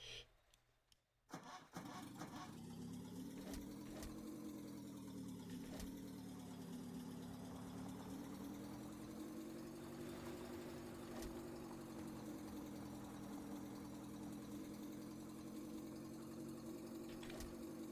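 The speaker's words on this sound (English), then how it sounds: "Put a racing engine in this thing." A car engine from The Long Drive fitted with a racing engine runs steadily at a near, even drone after a short start-up sputter, rising and falling slightly in pitch as the revs change, with no talk over it.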